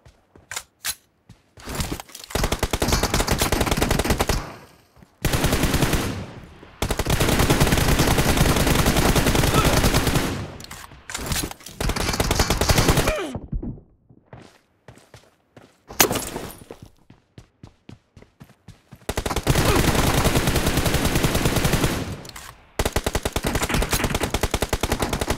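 Gunfire from the PUBG video game in a team deathmatch, with long sustained automatic bursts alternating with short single shots and brief pauses, loud and close, dense throughout.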